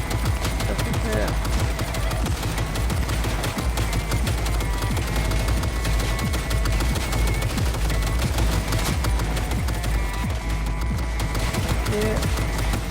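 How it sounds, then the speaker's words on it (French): Sustained machine gun fire in Cyberpunk 2077 on a PS4 Slim, a dense, continuous rattle of shots with no pause, loud and steady throughout, mixed with other game sounds. "Ah d'accord, c'est mitrailleuse."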